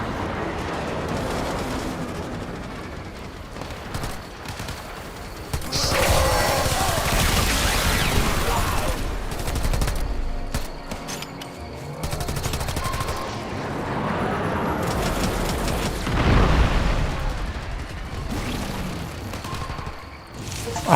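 Gunfire in the Warframe video game crackles in dense, rapid bursts over about twenty seconds, loud and close, with heavier booms mixed in and someone speaking briefly.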